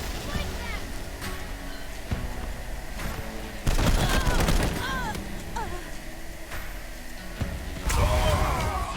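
Bursts of gunfire in the Wasteland 3 video game come in several loud volleys of rapid shots, with whooshing and clanking effects between them over a constant rumbling game ambience.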